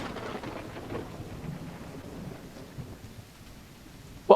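Rain and rolling thunder in the Call of the Elder Gods video game, a steady wet patter with low rumbles throughout and a brief sharper crack near the end.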